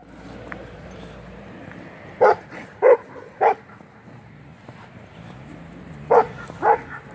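A female Kangal dog barks in short bursts, three quick barks, a pause, then two more, close by over quiet background noise.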